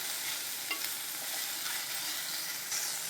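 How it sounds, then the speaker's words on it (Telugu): Ridge gourd pieces and peel frying in a pan, a steady close sizzle with light stirring scrapes, no voices. "ఇలా ఒక 5-10 మినిట్స్ ఈ ముక్కలు, ఈ తోలు వేసి ఇలా ఫ్రై చేసుకోవాలి."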